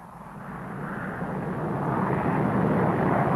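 An AV-8 Harrier jet aircraft in flight gives a steady, loud broadband roar that builds slightly over a few seconds, with no talk over it.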